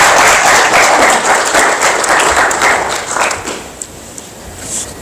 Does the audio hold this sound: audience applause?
yes